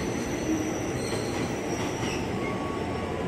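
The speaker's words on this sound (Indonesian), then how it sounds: "persiapan masuk komuteran tujuan stasiun Bogor" A 12-car commuter train rolls into Depok Baru station with steady rumble and a high, drawn-out squeal of wheels on rails, close and continuous, with no voices.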